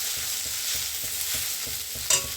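Green chillies sizzle in hot oil in a pan while a spatula stirs them in a steady rhythm of soft scrapes, with one sharper clink near the end and no voices.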